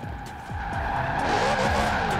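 Lexus RC F with its 5.0-litre V8 in Forza Horizon 4, engine roaring steadily and building in loudness as tyres squeal and skid through a slide, with no talk.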